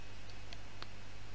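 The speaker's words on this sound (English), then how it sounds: "now press on your keyboard" Three crisp, isolated clicks of a computer keyboard key being pressed, faint and close, spaced irregularly over a low steady background hum.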